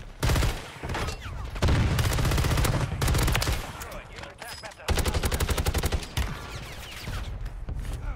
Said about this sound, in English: Who the heck is shooting at me?